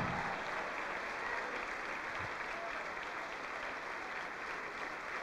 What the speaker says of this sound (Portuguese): Vamos aplaudir, vamos aplaudir e glorificar.